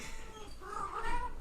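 A cat meows indoors during a podcast recording, letting out a drawn-out, wavering call that rises toward the end, fairly close and alone over a quiet background.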